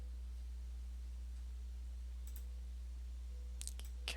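A computer mouse clicks a few times, sharp and close, with a pair of quick clicks near the end of the drag, heard over a steady low electrical hum.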